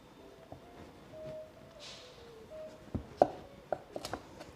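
A knife cuts a butternut squash in half on a board. Sharp chopping knocks land near the end, and a low hum carries on behind them.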